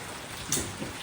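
Steady rain falling over rural Punjab farmland, a soft even hiss with a couple of brief louder spatters and no voices.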